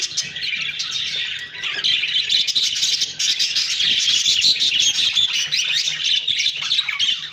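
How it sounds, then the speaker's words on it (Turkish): Pet birds kept in a large aviary flight cage chirp and squawk continuously, a busy bright chatter of many small birds close by with no talk. "cıvıl cıvıl olurlar"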